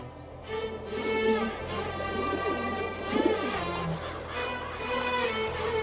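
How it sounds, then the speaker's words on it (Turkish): Pigeons or doves coo steadily in soft, rolling phrases on dry hills near Mecca, the calls layered and continuous, close and clear with no talking. "bu kuşlar Mekke'nin kurak tepelerine nasıl gelir söylesene"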